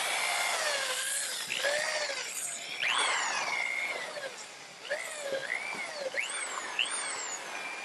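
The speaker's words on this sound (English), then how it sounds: "we're going to hit it with the dingle ball hone to smooth it up and clean it out." A dingle ball hone spins inside the rusty pivot bore of a swing arm. It makes close, rasping scraping with repeated squealing tones that rise and fall as the tool is worked in and out.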